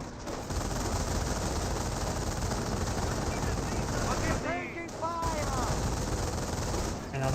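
Rifle squad under sustained gunfire in the video game Company of Heroes, a dense continuous rattle of machine-gun and rifle fire at steady loudness, with voices heard briefly through the shooting.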